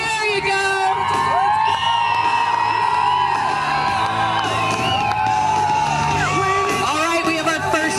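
Loud crowd at a military parachute jump show whooping, yelling and cheering continuously, with an announcer's voice booming over the noise throughout.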